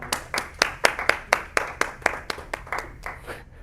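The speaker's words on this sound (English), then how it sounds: "Can we get an applause for Lazaro?" A small lecture-room audience of students applauds for a classmate, a brief patter of distinct claps with a clear rhythmic beat that fades toward the end, near and moderately loud, with no voices.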